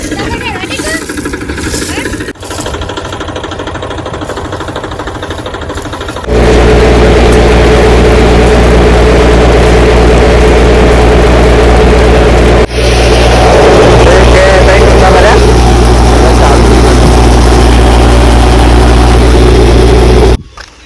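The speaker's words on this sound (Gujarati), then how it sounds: "ચલો ટ્રેક્ટર આવી ગયું" A farm tractor engine, brought in to haul sacks of castor beans, starts at about six seconds into a loud, steady low rumble that runs close by to the end. A brief sharp knock cuts through it midway.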